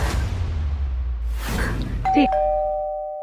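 A two-tone doorbell chime rings once, clear and fairly close, after a stretch of low room noise and a brief rustle.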